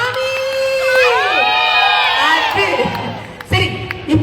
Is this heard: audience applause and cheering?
yes